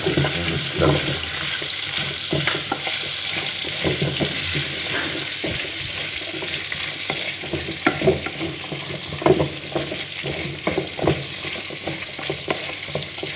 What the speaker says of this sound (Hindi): अच्छी तरह जो है हम बीफ को जो है भून लेंगे अच्छी तरह भुना जाएगा